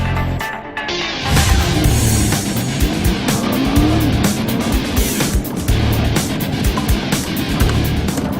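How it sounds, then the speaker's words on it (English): A Nissan GT-R accelerates hard on a test run, its engine note rising through several gears with brief tire noise. The sound is loud and continuous throughout. "Now let's see what the GT-R can do."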